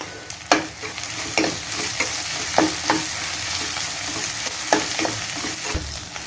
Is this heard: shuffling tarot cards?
no